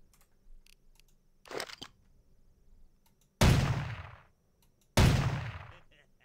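Two loud gunshots in the video game Vampire: The Masquerade – Bloodlines, each a sharp blast with a decaying tail about a second and a half apart, after quieter clicks and a short burst of game noise.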